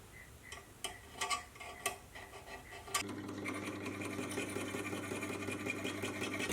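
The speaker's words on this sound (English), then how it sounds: "it's amazing how close and up to the line you can really get with a filing machine" A vintage machinist's die filer files a small radius into a brass part, first as sparse ticking strokes, then as a steady, close, mechanical rhythmic chatter that runs evenly to the end with no talk.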